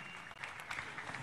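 A live audience claps steadily for a performer, Sami Brayo, as he walks into the arena: a continuous, fairly close wash of many hands lasting the whole moment with no talk over it.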